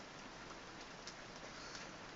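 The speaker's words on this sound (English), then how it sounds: "The rain is back." Steady rain plays as a background sound, a soft, even hiss of falling drops with no voices.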